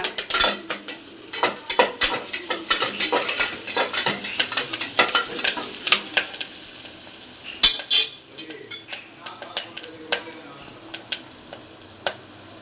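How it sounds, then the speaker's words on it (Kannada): Curry leaves crackling and spitting in hot oil in a home kitchen while cooking potato masala rice, with dense close sizzling pops and frequent sharp clinks of a spoon stirring against the pan, no talk. "ಒಂದು ಸ್ವಲ್ಪ ಬೆಂದ ನಂತರ ಕರಿಬೇವು ಹಾಕಬೇಕು ಚಟಪಟ ಚಟಪಟ"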